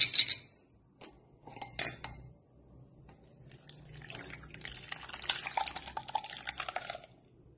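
Heated curdled milk poured through a strainer, with a couple of early clinks of utensils, then a trickling, dripping stream of whey that builds and patters for several seconds before tapering off.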